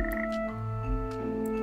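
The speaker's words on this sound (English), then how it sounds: "There's a frog. Several frogs." Several frogs croaking in an iPad nature-exploration app for kids, a close, steady chorus of low, buzzing, tonal croaks that overlap and shift pitch, heard alone without talk.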